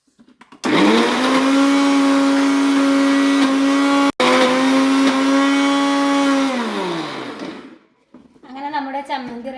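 A mixer grinder whirs loudly and steadily for several seconds, grinding mango-ginger chutney with salt, then winds down as the motor slows and stops, followed by faint handling sounds.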